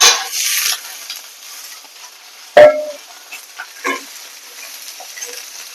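Young, seedless chopped ridge gourd tipped into a pan of fried potatoes: a loud sizzling burst opens, then a sharp clatter and scattered sizzles and stirring sounds fade out.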